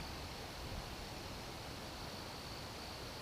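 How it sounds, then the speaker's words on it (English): Rain drips down from trees onto a still woodland pond, forming a faint, continuous, even hiss with no distinct individual drops standing out. "Maybe that's just the rain coming down from the trees."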